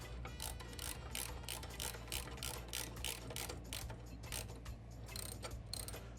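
Rapid ratcheting clicks from a short ratchet tightening bag-mount bolts on a 2003 Harley-Davidson, a steady close, continuous run of mechanical pawl ticks with no talking.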